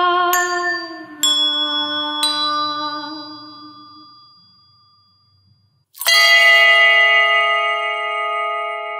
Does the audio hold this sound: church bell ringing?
yes